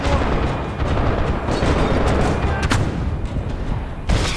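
Continuous rapid gunfire and booming shots from the video game Max Payne 3, loud and dense throughout, with a sharp burst near the end and no talking.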